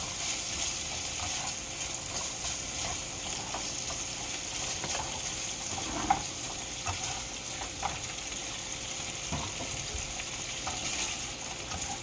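Smoked sausage frying in a pot gives a steady, dense sizzle throughout, with occasional soft clinks and scraping as it is stirred around, close and continuous with no talk.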